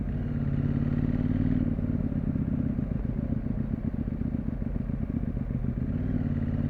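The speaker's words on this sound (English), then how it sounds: "So it can just be a raw sound video of the bike" A CFmoto 800MT motorcycle engine and exhaust drone on while riding, a steady close throbbing rumble with rapid engine pulses and a slight change in tone partway through, no talking.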